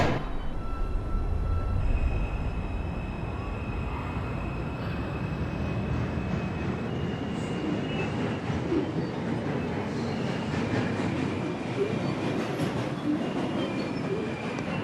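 New York subway 4 train riding toward Woodlawn, a continuous loud rumble of car and wheels with faint squeal tones, heard from inside the car without talk.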